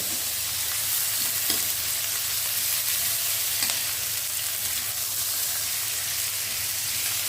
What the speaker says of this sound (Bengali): আস্তে আস্তে নাড়া দিতে থাকেন